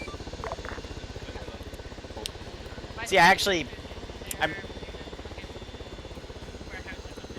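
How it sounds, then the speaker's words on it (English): Military helicopters in a video game sim give off a steady, rapid rotor chop that pulses throughout, loud and continuous, while a voice speaks briefly over radio chatter. "I cannot hear you over the choppers."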